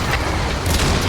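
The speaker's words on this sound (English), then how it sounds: "150 millimeters of cannon. Fire." A 150 mm cannon in the shooter EDF 5 fires a single deep, heavy boom that swells with a rough low rumble and fills the short moment, with no talk over it.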